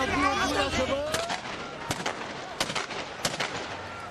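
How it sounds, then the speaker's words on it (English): Police gunfire shot into the air at a tense protest in Syria, heard as several sharp cracks spread across a few seconds, loud and close, following a brief burst of voices and crowd noise. "The police is firing in the air to disperse the protesters as there is tension coming."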